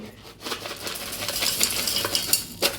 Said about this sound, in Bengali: স্পেশাল চানাচুর তো মাখা হচ্ছে